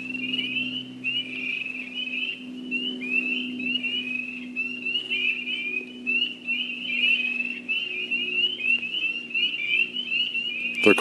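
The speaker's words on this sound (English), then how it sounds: "Lots of spring peepers down there by the canal" A dense chorus of spring peepers, tiny half-inch frogs calling near a canal around sunset, rings out as continuous overlapping shrill peeps with a low steady hum beneath, no voices present.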